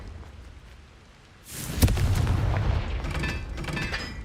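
A Confringo spell explodes in Hogwarts Legacy, a sudden sharp burst followed by a rumbling, crackling blast that lingers for a couple of seconds after a quieter lead-in.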